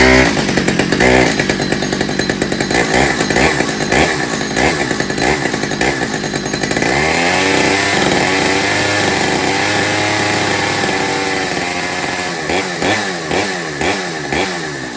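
A restored chainsaw sputters and catches, then its engine roars and revs loudly up close before settling into a rough, steady run that fades slightly, with no talking.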